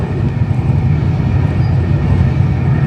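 Steady low rumble and rattle of a Melbourne-to-Sydney passenger train running, heard from inside a carriage, loud and continuous with no voices.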